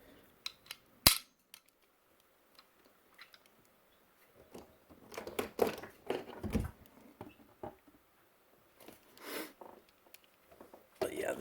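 Ninja Turtles toy being shot off, giving a sharp snapping crack followed by scattered lighter clicks and pops, with faint talking and handling noise between bursts.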